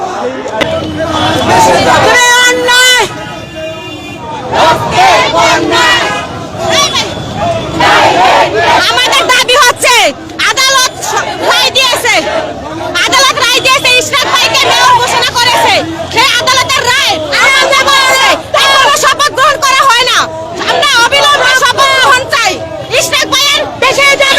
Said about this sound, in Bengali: সামনে কিন্তু বিক্ষোভকারীরা এই মুহূর্তে স্লোগান দিচ্ছেন